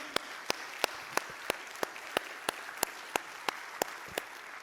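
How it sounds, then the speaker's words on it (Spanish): Rhythmic clapping at a church service, single sharp claps in a steady even beat about three per second, close and distinct over a quiet background. "Dale fuerte aplauso a Él."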